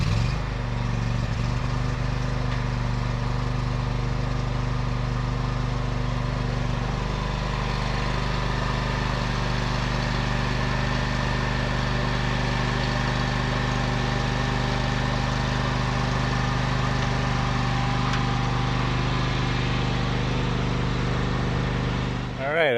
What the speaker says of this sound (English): Alright, I got the lawnmower unloaded.